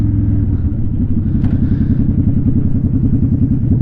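A Honda Shadow motorcycle holds a steady throttle while riding, its engine putting out a loud, even, continuous low rumble with a brief high click partway through.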